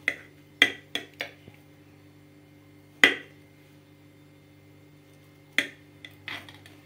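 Knife cutting through a slice of warm, freshly baked apple cake flavoured with cocoa and coffee on a plate, heard as several sharp clinks and taps against the plate, spaced irregularly with pauses between, close and fairly quiet with no talking.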